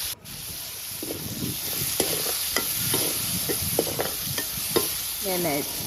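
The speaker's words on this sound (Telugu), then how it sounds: "నేను వేసేసి బాగానే ఫ్రై చేస్తాను కొంచెము" Green chillies and chopped tomatoes fry with mustard seeds in a hot pan, giving a soft steady sizzle with scattered pops and spoon scrapes, quiet and close, while a brief faint voice surfaces near the end.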